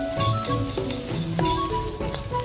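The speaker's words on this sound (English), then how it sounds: "Stir-fry evenly, letting the rice release its moisture and break apart." Rice stir-fried in a hot wok for soy sauce fried rice, with a steady close sizzle and repeated scraping strokes of the spatula at an uneven rhythm, no voices.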